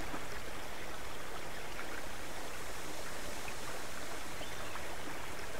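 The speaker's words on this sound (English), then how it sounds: "we've got all the extra sound of the weather to go with the water." Storm ambience with water in the survival video game Subsistence: a steady, even wash of rain and rushing water, like a stream or downpour, fills the clip at moderate loudness with no pauses.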